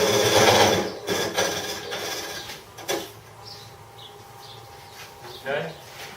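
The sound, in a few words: wood lathe cutting a bowl tenon with an end scraper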